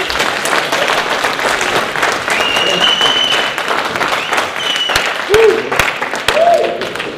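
A seminar audience applauds Daniel, dense continuous clapping with a few whoops and cheers rising near the end, loud and close.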